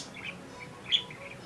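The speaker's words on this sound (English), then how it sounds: "Birds, parakeets are really enjoying summer weather." Pet budgies chirping indoors, a few short thin tweets with one brighter chirp standing out, fairly faint against a quiet room.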